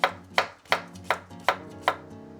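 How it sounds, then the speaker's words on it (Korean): A knife thinly slices cucumbers on a cutting board, six crisp, evenly spaced chops close up, each with a short fading tail. "잘라주세요. 얇게 썰어주세요."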